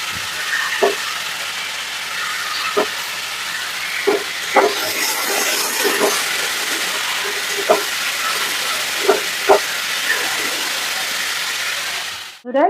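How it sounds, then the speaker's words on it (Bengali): Potatoes and elephant foot yam frying in oil in a kadai give off a steady, close sizzling hiss with scattered sharp pops and crackles, which cuts off abruptly at the end. "এবারে আমার আলু আর ওল ভাজা হয়ে গেছে"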